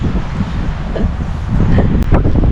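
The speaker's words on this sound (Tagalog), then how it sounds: "Sarap na simoy ng hangin." A steady breeze rushes through pine trees at a campsite in Malico, Pangasinan, with soft rustling and low rumbling wind buffeting the microphone, fairly loud and continuous with no talking.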